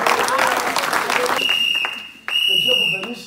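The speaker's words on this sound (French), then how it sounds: "On peut les acclamer." A church congregation applauding the musicians at a Sunday service, a loud burst of clapping that fades out, then picks up again while a high electronic tone rings through.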